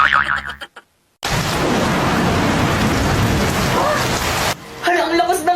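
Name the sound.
heavy rain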